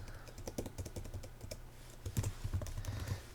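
Keys clatter on a computer keyboard while code is typed for a Bootstrap 4 modal button, with quiet, irregular clicks in short bursts throughout.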